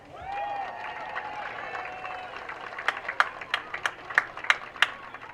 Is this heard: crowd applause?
yes